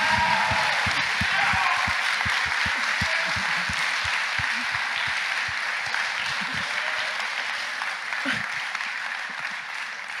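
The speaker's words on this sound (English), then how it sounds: "we'd like for one big round of applause for all of our speakers tonight" An evening student event audience gives a big round of applause for the speakers. The dense, steady clapping fills the whole stretch and slowly fades toward the end.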